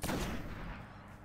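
A sniper rifle shot in the Destiny video game, one loud, close blast at the start whose boom decays over about a second.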